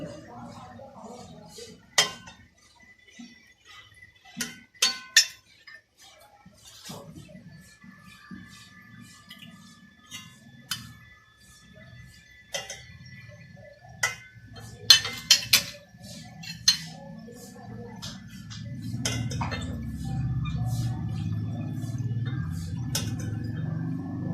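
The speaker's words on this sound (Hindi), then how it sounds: "अब मैं आपको इसे डिश आउट करके दिखाऊंगी" A spoon clinks against a pot and serving dish as egg curry (salan) is dished out, giving sparse, bright metallic taps spread out over time, followed by a softer scraping and pouring sound near the end.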